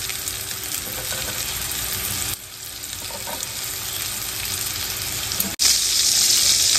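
Meatballs browning in oil in a skillet: a continuous loud sizzle and crackle that dips briefly when they are turned, then picks up again hotter near the end.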